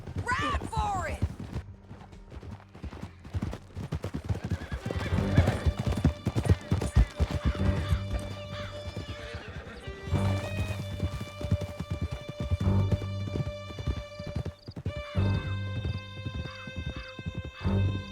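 Horses galloping in Red Dead Redemption 2, a fast rhythmic clatter of hooves with occasional whinnies racing out of a canyon, close and loud, with shouted voices and game music over the hoofbeats.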